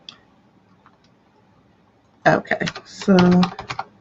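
Computer keyboard being typed on to enter a password: a quick burst of clicky keystrokes, close and fairly loud, following a short spoken word and mixed with more talk.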